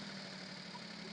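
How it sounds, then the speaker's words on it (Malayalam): A Maruti Alto car engine idles steadily at close range after over-racing, a smooth, even low hum with no change in pitch over a brief moment. "ഇപ്പോൾ എഞ്ചിന്റെ സൗണ്ട് കേട്ടാൽ നോർമൽ RPM-ലോട്ട് വരുന്നത് കാണാനായിട്ട്"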